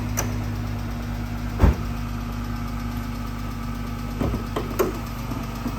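A 2013 Dodge Charger's 3.6 Pentastar V6 idles at close range under an open hood, a steady low hum with a few sharp knocks; the engine is said to have a lifter tick. No one speaks.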